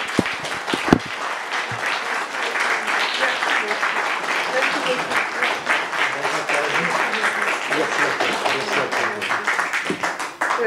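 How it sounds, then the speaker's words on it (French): Audience applause at an award ceremony honouring a recipient named a knight of the National Order of Merit, a dense steady wash of clapping lasting about ten seconds after a brief voice at the start. "on peut vraiment l'applaudir"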